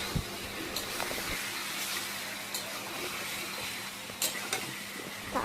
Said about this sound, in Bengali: তারপর তেলের মধ্যে চিকেনগুলো ভালো করে ভেজে নিচ্ছি।